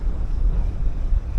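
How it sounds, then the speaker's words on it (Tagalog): Strong wind buffets the microphone during shorecasting at San Agustin, a steady low roar with gusty swells and no other clear sounds. "Lakas ng hangin."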